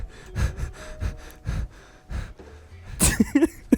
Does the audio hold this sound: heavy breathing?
yes